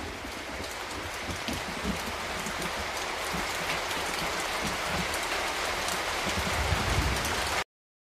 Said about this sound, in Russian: Дождь в твое окно стучится.